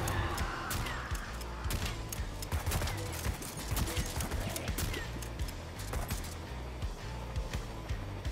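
Dense, overlapping bursts of gunfire from the Dustoff Z video game on Xbox One, a steady rattling fusillade of rapid shots running throughout at a loud, close level with no talking.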